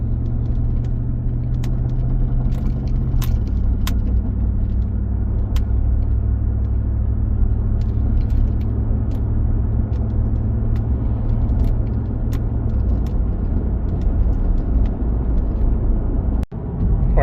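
A Chevy Silverado truck cruises steadily at around 55 mph, its engine and road rumble forming a constant loud drone with faint rattles and clicks, and no one speaks.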